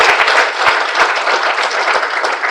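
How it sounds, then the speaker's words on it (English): Audience applause for children performing at a children's parliament session, a steady dense wash of many hands clapping throughout, loud and continuous with no voices. "let us give a big applause to our children"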